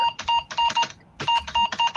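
Rapid bursts of sharp electronic beeps come from a speaker under test, in two clusters of quick repeated tones separated by a brief gap, loud and close.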